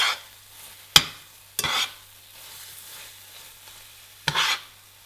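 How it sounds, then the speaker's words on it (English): Pineapple jam cooking down in a pan for Nyonya pineapple tarts is stirred in a few separate scraping strokes. Each stroke is a short, close sizzling scrape with quiet pauses between, and no one speaks. "I'm just going to continue stirring this for a while to ensure that it doesn't get burnt."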